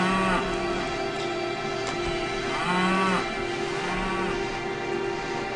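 Cattle moo in the video game Daggerfall, with a few drawn-out lowing calls over a steady background drone and no talking.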